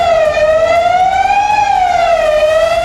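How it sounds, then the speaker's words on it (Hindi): A civil alert siren wails steadily along a crowded riverside ghat during Uttarakhand flooding, its loud, continuous tone slowly rising and falling in pitch with no voices over it. "सायरन बजाकर अलर्ट की सूचना दी गई।"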